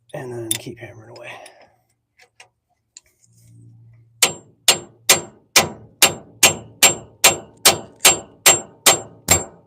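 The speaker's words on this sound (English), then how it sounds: "And then keep hammering away." Hammer blows on metal while repairing a rusty car, about a dozen loud, evenly spaced ringing strikes in a steady rhythm, preceded by brief talk and a few scattered clanks.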